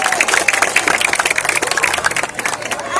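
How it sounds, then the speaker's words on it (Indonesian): Crowd applause for the top scorers at the Ansor Cup 2022 football tournament award ceremony, dense, lively clapping that carries on steadily with a few voices mixed in. "Beri tepuk tangan para top-scorer kita."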